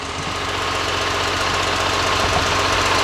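Dirt drag racing vehicle's engine warming up, a loud, close, steady rumbling idle with a rough knocking pulse, heard alone without talk.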